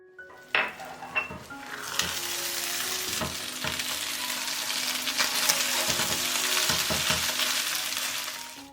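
Pork ribs with poured-in egg sizzle in a pan, starting with a few sharp clinks of utensils and a lid, then a steady, swelling fry close by with occasional knocks, no voices.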